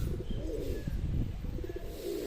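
Pigeons coo softly in a low, repeated rhythm, near and fairly quiet, with faint chirps and a light background hum at a home loft.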